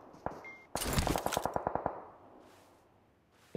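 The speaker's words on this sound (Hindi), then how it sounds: "वॉच आउट, पीछे से गोलियां।" Gunfire from the mobile battle royale game PUBG Mobile, on the Sanhok map: a single early shot, then a rapid burst of about a dozen automatic rounds, followed by fading quiet and another sharp report at the end.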